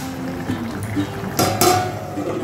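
A metal lid clatters onto a pot of potatoes set to boil for a Bengali aloo posto dish, two short bright clanks close by over a low kitchen hum, with no one talking.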